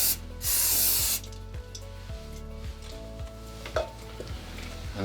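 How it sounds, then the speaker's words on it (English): Short hiss of a spray bottle misting cleaner onto freshly oozed sealant along laminate shower wall panels, one clear spritz near the start over faint handling noise, close by. "we're going to take the spray and spray the sealant"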